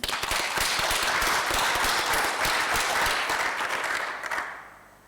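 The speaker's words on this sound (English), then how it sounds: "this is a big round of applause for you" A dense round of applause from a large conference audience, steady and loud for several seconds before tapering off at the end.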